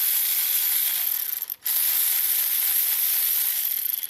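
A ratchet works on a rocker arm of a 2014 GMC Sierra engine, clicking in a rapid steady stream with one brief pause near the middle before it continues.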